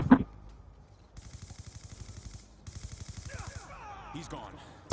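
Rapid automatic gunfire in the video game Black Ops 2 rattles in two bursts, a fast even stream of shots, with brief sweeping game effects near the end.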